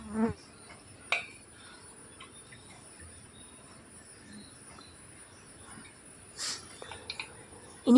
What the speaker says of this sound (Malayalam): എന്തെങ്കിലും മധുരം കാണാൻ നിൽക്കുകയാണ് ഈച്ചകൾ വന്ന് ഇതാവാൻ വേണ്ടിയിട്ട്.